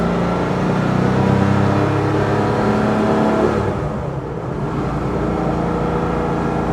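A 1995 Porsche 911 (993) Carrera RS 3.8 Clubsport is driven on a twisty road, its engine loud and close, holding a steady revving drone that eases off briefly toward the end with no talking.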